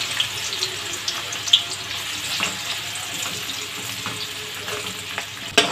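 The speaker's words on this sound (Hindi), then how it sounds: "इसमें प्याज ऐड करेंगे, तो फ्राई करेंगे" Onions frying in a pan as the first step of a chicken dish, a steady near sizzle with occasional stirring clinks and scrapes throughout, no voices.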